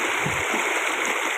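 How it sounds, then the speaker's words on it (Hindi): Fast-moving water gushes steadily from a stream, a dense, continuous rushing close by with no pauses and no voices. "देखो कितने रफ्तार से पानी निकला है"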